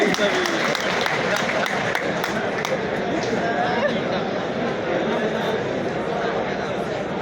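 Sustained group clapping from a gathering of motorcycle taxi riders at an officer's address continues steadily, mixed with crowd chatter and murmuring voices throughout.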